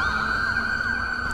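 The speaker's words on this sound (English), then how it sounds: "turn my sirens off." A police car siren in the video game GTA V wails loud and continuous, its steady high tone sweeping up and down over a low rumble of engine and traffic.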